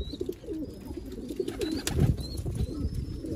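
Iranian pigeons at a loft tower coo softly amid flapping and rustling, a continuous low murmur of birds close by with a few faint higher chirps.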